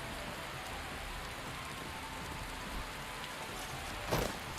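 Steady rain falls in the video game Skyrim at night, a constant hiss of drops with a faint low rumble and a brief louder spatter near the end.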